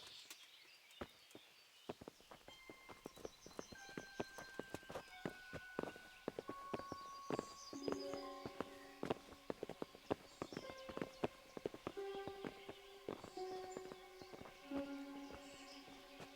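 Horses' hooves clip-clop steadily on hard ground in the medieval video game Kingdom Come: Deliverance, a close, regular walking rhythm running throughout with faint ambient chirps and tones around it.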